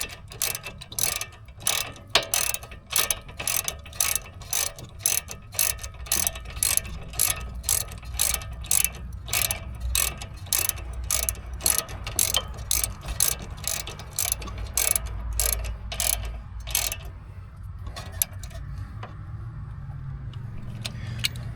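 Ratchet tightening the rear brake caliper bracket bolts on a 2018 Chevrolet Malibu, a long run of rapid, evenly spaced metallic clicks close up, pausing briefly in places before settling near the end.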